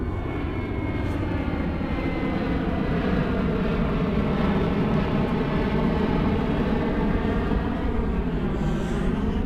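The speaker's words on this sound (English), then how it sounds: "The other thing I'll go into once this plane passes" A fixed-wing airplane passes overhead near an airport beside a bike park, a loud, steady engine roar with a continuous drone that fills the whole stretch, no voices.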